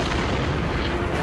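Dense, sustained roar of explosions and gunfire from the war video game Soldats inconnus, a loud continuous barrage filling the whole moment with no pause.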